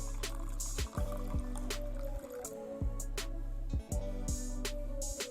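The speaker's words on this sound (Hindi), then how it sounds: "अब उसमें हम सेकंड पानी कितना शामिल करेंगे" Water is poured into a large glass, a continuous filling gurgle broken by splashy drips and bursts, close and steady throughout.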